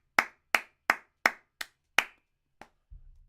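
Hands clap six times in a fairly even rhythm during a live watch-along of a Premier League match, Manchester United against Liverpool, each clap sharp and close, followed by a fainter seventh clap and a low rustle.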